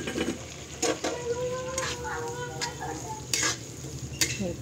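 Two large finely chopped onions fry in melted butter in a pan, a soft steady sizzle punctuated by several sharp scrapes and clinks of a spoon stirring against the metal.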